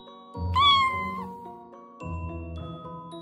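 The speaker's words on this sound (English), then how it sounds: "C is for cat." A cat meows twice in clear, close succession, each call drawn out and tonal over a soft musical background.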